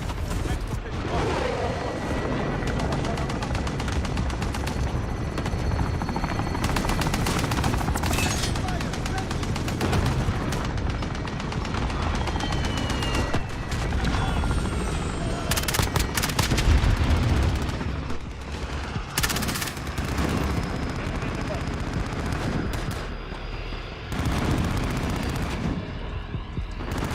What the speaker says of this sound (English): Enemy VTOL in the AO. Enemy cluster strike incoming.